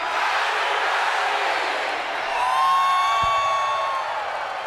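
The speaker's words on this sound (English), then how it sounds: "getting the crowd whipped into a fever pitch" Large arena crowd at a WCW Monday Nitro wrestling event cheering and whooping in a sustained roar that swells midway, with a faint whistle rising above the noise.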